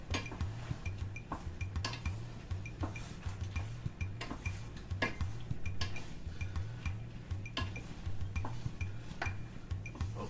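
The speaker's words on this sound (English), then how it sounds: "Just stir and fold that pasta in." Pasta being stirred and folded through a sauce in a pan, a spoon scraping and clinking against the pan in a steady repeated rhythm over a low simmering hum, close and moderately loud, with no talking.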